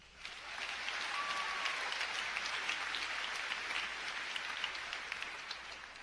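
A graduation-ceremony audience at Liberty High School claps steadily for about six seconds, a dense, even wash of applause that stays loud throughout with no talking over it.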